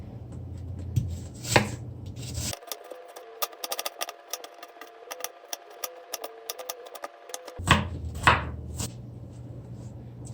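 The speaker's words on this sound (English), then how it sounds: "Let me cut on the onion." A knife chops an onion on a cutting board in a home kitchen, a quick run of sharp, closely spaced taps that stands alone between stretches of low background hum.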